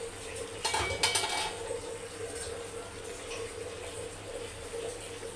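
Millet upma being stirred in a metal cooking pot, with a few clattering scrapes and knocks of the spoon against the pot early on over a steady low kitchen hum, no talking.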